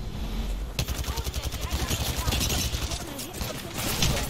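Rapid gunfire from the Apex Legends video game crackles in fast bursts, loud and continuous throughout, with a player's voice talking over the shooting.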